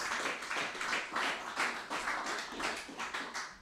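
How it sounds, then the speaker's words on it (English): An audience gives a round of applause at a lecture, a steady wash of many hands clapping at a soft, distant level that runs throughout. "So we give him a round of applause."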